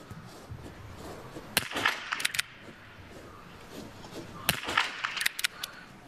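Biathlon rifle shots ring out at the range during a women's relay race in Ruhpolding, coming as two clusters of sharp cracks a few seconds apart over crowd noise and a commentator's voice.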